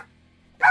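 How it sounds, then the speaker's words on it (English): Dog barking indoors, a single short, loud bark arriving abruptly after near silence, close to the microphone. "I'm going to lose it with this dog."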